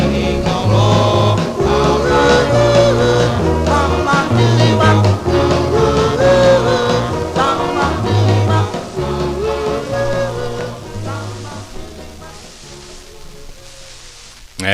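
A 1958 vinyl doo-wop vocal record plays with surface noise: harmonised voices over a bass line, fading toward the end.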